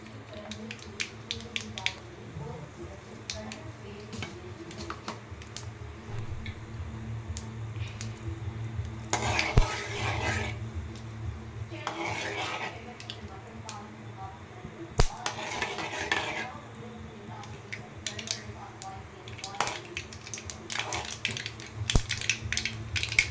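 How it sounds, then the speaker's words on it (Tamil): Rapid, crackling pops of mustard seeds spluttering in hot oil, with scattered sharp snaps and bursts over a steady low background hum. "கடுகு நல்லா பொரிஞ்சிருச்சு"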